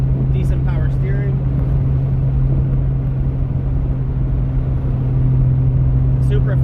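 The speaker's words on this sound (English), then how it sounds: "The Supra feels really nice, she's running pretty good." A Toyota Supra's 2JZ engine idles with a steady, deep droning hum and an even rumble that holds constant throughout, with a few faint higher noises over it.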